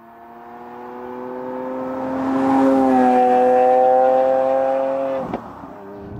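Aston Martin 5.2-litre twin-turbo V12 revs up and holds a loud, steady rising engine note, harmonics climbing then settling, before dropping off abruptly near the end; no talking.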